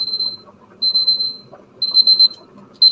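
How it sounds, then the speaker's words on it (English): A kitchen timer goes off while cauliflower roasts for a tuna spaghetti dish, sounding three loud, high, steady electronic beeps in bursts about a second apart, with a fourth starting at the end, over quiet room background. "See, glad I put the timer on."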